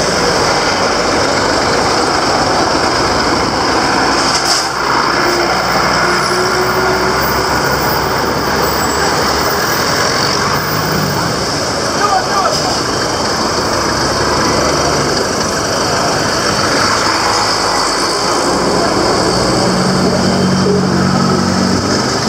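Continuous dense traffic noise on the main highway in Gambia near road maintenance works, steady engine rumble and idling of trucks and cars, loud and unbroken with no talking.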